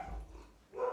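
Clarabelle the dog barking indoors, a single short bark followed by a second, louder bark after a brief pause, heard nearby.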